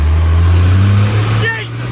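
A limousine swapped to a Cummins diesel engine drones loud and close with a low rumble and a rising whine, and the engine note dips near the end.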